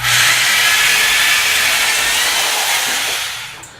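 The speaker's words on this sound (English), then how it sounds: "I'm just drilling with a 16th inch bit." A power drill with a 1/16-inch bit piloting a hole runs steadily in a loud, continuous whirring hiss, then winds down near the end as it stops.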